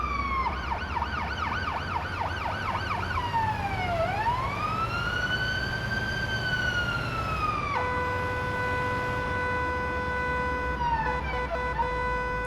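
A simulated ambulance siren switches patterns: a fast yelp, then a slow downward-and-rising wail, then an abrupt shift to a steady high tone, all loud and close over a constant engine hum.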